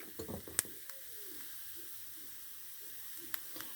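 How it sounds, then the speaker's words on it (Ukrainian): Spices are tossed into chopped onion frying in a pan: a soft, steady sizzle with a few light clicks and taps near the start, quiet and close throughout. "коли от на зажарочку таку робиш, і в цей час сюди кидаю спеції"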